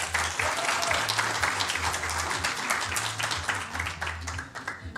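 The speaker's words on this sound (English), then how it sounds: "let's give him one more round of applause" A crowd claps steadily at a men's air rifle European Championship final in Wroclaw, Poland, with sustained broad applause and a low hall hum beneath it, tapering slightly at the end.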